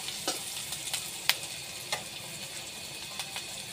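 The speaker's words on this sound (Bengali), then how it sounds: "এখন ভালো করে কষিয়ে নিব" Rohu fish curry spices with chili powder sautéing in a pan, a soft steady sizzle with a few sharp stirring scrapes and clicks scattered through.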